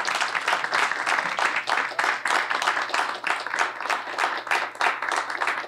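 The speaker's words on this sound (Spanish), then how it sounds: "Yo necesito otro aplauso fuerte para él." Applause for an archbishop at a solar panel blessing event, clapping in distinct pulses with an uneven, moderately loud rhythm and a low steady hum underneath.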